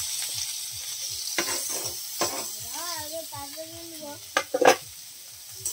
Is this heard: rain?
no